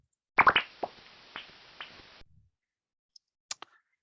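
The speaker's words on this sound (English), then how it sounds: "They talk to each other in the roost, and it sounds a bit like this" Pekapeka bat social calls from inside a roost, heard through a bat detector: a short cluster of sharp chirps and clicks that trails off, then a couple of faint isolated pips, with no voices.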